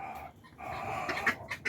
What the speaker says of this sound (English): And the chickens on the other side are also out of their house.